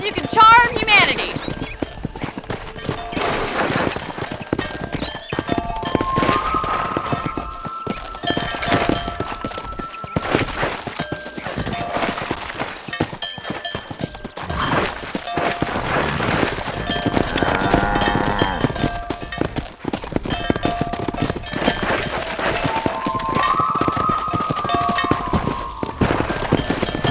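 Horse hooves clip-clopping steadily during a cattle-herding ride in the video game Red Dead Redemption, a continuous galloping rhythm mixed with game music and voices talking throughout.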